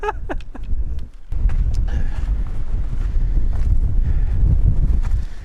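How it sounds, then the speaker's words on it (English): Strong wind roars steadily across the microphone on the Appalachian Trail near the summit of Katahdin in early winter, loud and buffeting, with footsteps and brief voices mixed in. "Wind is still certainly whipping through"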